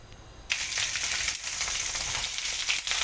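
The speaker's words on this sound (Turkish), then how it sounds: "Şimdi bunları kızartacağım." Peppers sizzling in hot oil, a bright crackling hiss that starts abruptly and continues steadily, close and fairly loud.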